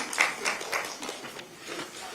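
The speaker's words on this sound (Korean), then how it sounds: "큰 박수 부탁드립니다" Brief, moderately quiet audience clapping at a Democratic Party ceremony for the presentation of a 21st presidential election white paper, a short burst of scattered claps over a couple of seconds.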